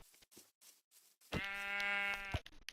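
Sheep bleating in the video game Minecraft, one long, clear, close bleat in the middle of quiet gameplay sounds, with no talking over it.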